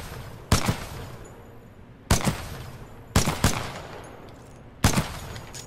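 Pistol shots in Titanfall 2 ring out as five sharp cracks, spaced irregularly with a couple fired close together, each followed by a short fading echo in an otherwise quiet space.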